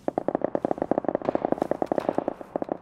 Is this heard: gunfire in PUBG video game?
yes